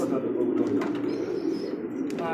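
Soft cooing of a large racer pigeon rises and falls in low, throaty murmurs, close by and steady, with faint background chatter.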